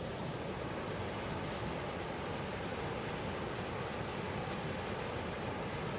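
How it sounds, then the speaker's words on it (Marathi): A constant, dense roar of rushing water from a waterfall, unbroken and even from start to finish. "तुम्हाला हा जो आवाज येतोय तो धबधब्याचा आवाज आहे"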